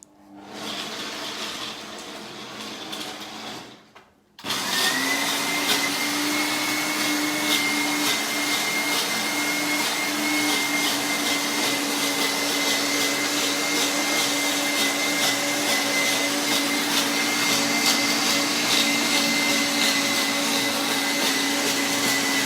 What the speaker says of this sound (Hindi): अभी हम ग्राइंड कर रहे हैं coriander leaves, blanch spinach, chaat masala, green chillies, कड़ी लीव्स और 1 टेबलस्पून चना दाल रोस्टेड